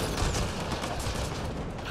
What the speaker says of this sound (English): Do some extra DPS with the flank cannon while the powers recharge.